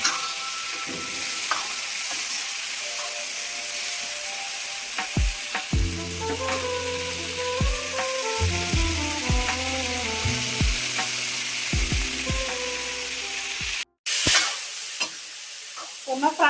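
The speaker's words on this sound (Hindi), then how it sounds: "और मटर के साथ भी ये हल्की हल्की फ्राई होती रहेंगी प्याज" Onions and peas fry in a pan with salt, giving a continuous close sizzle while a spoon scrapes and stirs in irregular bursts, with a brief cut near the end.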